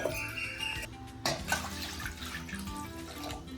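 About a litre of water pours steadily into a pot for cooking noodles, splashing and gurgling close by, with a brief clatter partway through.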